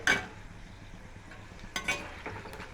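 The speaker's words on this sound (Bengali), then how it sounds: "একটু নেড়ে চেড়ে এটাকে ভাজতে হবে" Nimki dough pieces frying in oil over a lowered flame, with a faint sizzle and a few scattered stirring scrapes and light utensil taps.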